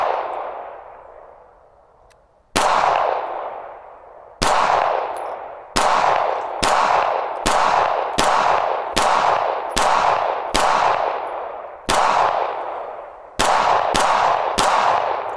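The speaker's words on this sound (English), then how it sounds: "We're going to do a couple test shots." Handgun test shots fired at a cardboard target, covering an M&P Shield and an M2.0 Compact: a dozen or so loud, close single reports with ringing decay, spaced roughly a second apart after an opening pause.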